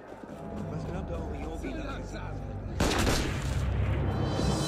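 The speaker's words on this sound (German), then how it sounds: "Ich hasse es, wenn die schießen." Enemy gunfire crackles in Assassin's Creed Unity, a dense rattle of shots that swells suddenly louder partway through, with someone talking over it.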